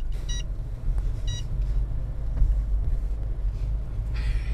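A Mercedes CLA 200 rolls along in reverse at low speed, its steady low engine and road rumble continuous throughout, with a few short electronic chimes and beeps sounding over it.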